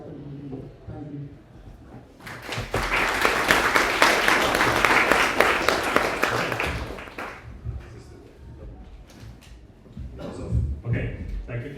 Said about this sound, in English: let's give another round of applause for the speakers who came here